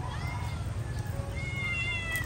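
A cat meows several times in a kitchen or dining setting, thin drawn-out calls over a steady low hum and background clatter; a voice is faintly present.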